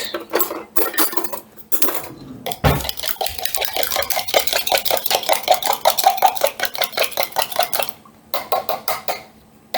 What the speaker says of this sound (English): I'm just going to break them up, give them a light whisk